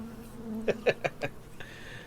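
Bees buzz inside a strange creature in a tabletop role-playing game scene: four short, sharp buzzing bursts in quick succession, then a fainter tone trailing off, with no talk.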